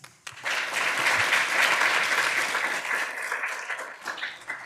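Applause from a crowd at a law school moot court competition final breaks out abruptly and holds as a full, sustained patter of clapping before easing slightly toward the end.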